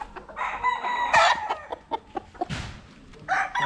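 Roosters crowing and chickens clucking among a flock of gamefowl kept on a mountainside farm, several overlapping crows rising and falling close by, with a burst of broadband rustling midway.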